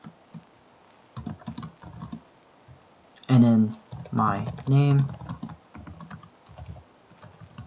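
Rapid clicks of typing on a computer keyboard come in short bursts, close and fairly quiet, under and between a man's spoken words.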